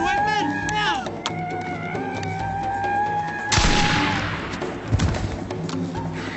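Gunshots ring out in a frontier western drama as tonal music and a held note cut to a loud burst of gunfire and thuds midway, followed by another sharp shot with rumbling noise underneath.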